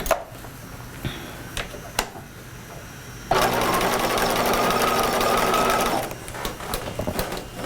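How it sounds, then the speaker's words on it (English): A sewing machine stitches a jacket seam in one fast, even whirring burst of about three seconds, close and clear, between quiet handling clicks and rustles of fabric. "I just overlap my stitching like I did on the bound buttonhole"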